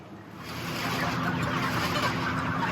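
Broiler chickens fill a large barn on their last day before shipping, a dense, continuous murmur of many birds clucking together, steady and moderately loud with no distinct single calls.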